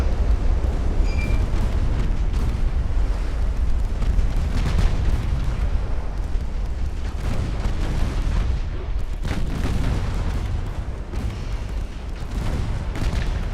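Explosions and heavy gunfire as a warship sinks during a naval battle in a strategy game set in the 1900s, a continuous loud roar of booms and blasts with no talk.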